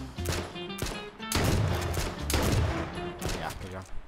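Rapid bursts of gunfire from the battle royale game H1Z1 come in several quick volleys with short gaps between them, fairly loud, while players talk over the shooting.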